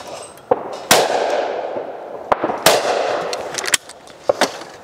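20 bore shotgun firing Fiocchi 28 gram cartridges at clay targets outdoors, several sharp loud reports at irregular intervals, each with a short echoing tail.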